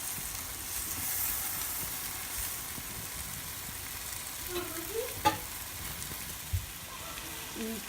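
Peri peri chicken sizzles softly in a pan with sauce as the pieces are flipped, a faint steady crackle broken by a few small clinks and scrapes of turning.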